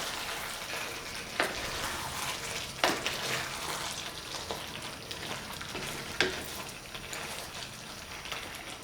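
Chicken and potato stew in a thickened sauce being stirred in a pan, a continuous soft sizzle broken by several sharp scraping knocks of the utensil, with no talking.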